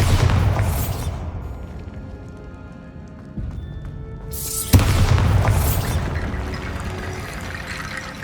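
Bombarda spell explosions in Hogwarts Legacy go off in two loud broadband blasts with a quiet stretch between, the second opening on a sharp crack and then rumbling and crackling as it fades.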